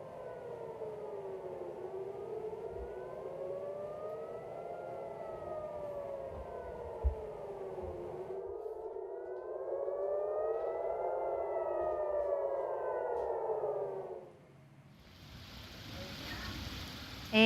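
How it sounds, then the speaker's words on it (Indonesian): A civil defense siren in Israel warning of a missile attack wails in long rising and falling cycles, loud and sustained, with a brief dip before the tone continues near the end. "Suara sirine terdengar sebagai bentuk peringatan warga Israel adanya serangan."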